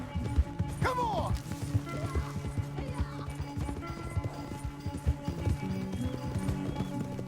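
Horse hooves clattering at a gallop in Red Dead Redemption 2, a steady rapid clip-clop close by beneath a dense in-game music and ambience bed, with a brief whinny near the start.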